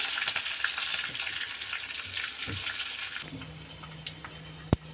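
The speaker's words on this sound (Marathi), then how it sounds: "तेल गरम झालं ना की हे थोडेसे जाई घालू किंवा मोहरी म्हणतात" Mustard seeds crackle and sizzle sharply in hot oil for a few seconds for a dhokla tempering, then the sound softens into a low hiss, ending with a sharp clack.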